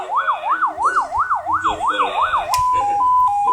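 A 200-watt electronic siren sound box plays its first tone, a fast, regular up-and-down yelp wail. Near the end it switches to a steady alternating two-note pattern. The sound is loud and close, with no talking.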